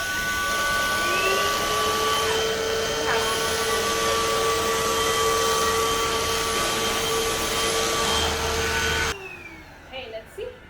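A Dyson cordless vacuum cleaner runs with a loud, steady motor whine and airflow roar for about nine seconds, then cuts off abruptly, leaving faint handling noises.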